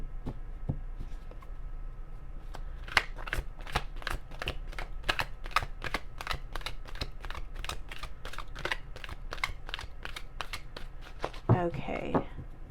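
Tarot cards shuffled for a reading, a steady run of crisp riffling snaps that builds into a flurry near the end, fairly close and quiet, with no talking over it.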